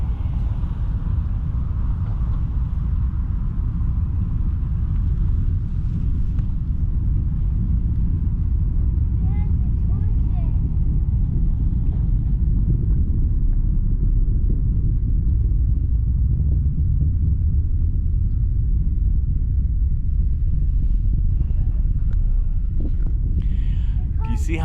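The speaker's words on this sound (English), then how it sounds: "that sound you hear, that is a rocket actually" A rocket launch sends a deep, continuous low rumble rolling in from a distance, steady and heavy throughout, with people talking faintly over it.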